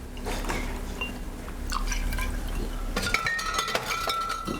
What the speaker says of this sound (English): A nice shot of vodka.